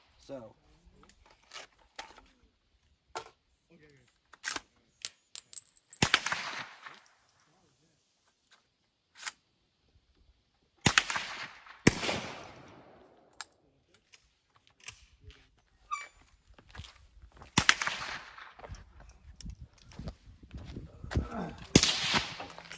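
KA-15 rifle test fired with 55 grain ammunition, giving sharp, loud isolated reports at irregular intervals with quieter mechanical clicks and handling noises between them.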